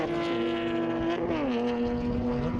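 A Pepper Shield BMW race car howls past at a track racing festival, its high engine note sustained and loud, then dropping in pitch as it goes by, with faint tire noise underneath.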